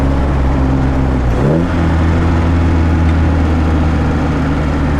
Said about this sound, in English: Wonderful Healey sound.